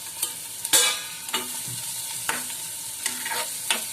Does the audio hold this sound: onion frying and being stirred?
yes